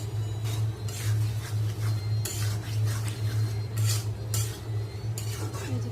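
Whole okra pods going into a cooking pot and being stirred, with intermittent scraping clinks of a utensil against the metal over a steady low hum, moderately close.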